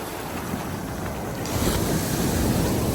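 Sea waves roll and break continuously on Alappuzha beach in Kerala, a steady loud wash of surf with wind buffeting the microphone, swelling stronger midway, with no voices.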